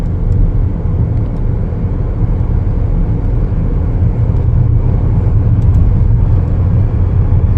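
A 2025 Chevrolet Equinox LT accelerates on a test drive, its engine and road noise forming a steady, loud low rumble heard from inside the cabin throughout, with no talking.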